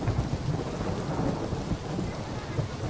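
Steady rain falls with low rumbles of thunder rolling underneath in the video game The Witcher 3, a continuous stormy wash with no voices.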